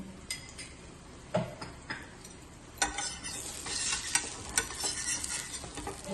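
A cowpea pudla fries in oil on a pan after being flipped, giving a soft, low sizzle marked by intermittent spatula taps and scrapes, quiet throughout with no speech.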